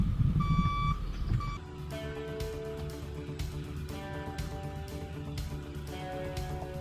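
A boom truck backs up at an Alaska steel-arch shop build, its reversing alarm beeping steadily in a regular rhythm over a low engine rumble, moderately close, with no talk.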